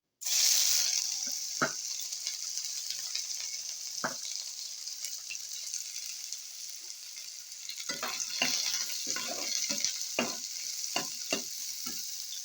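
Onions frying in a couple tablespoons of hot cooking oil, a steady loud sizzle throughout with intermittent stirring scrapes and clatters, growing busier toward the end.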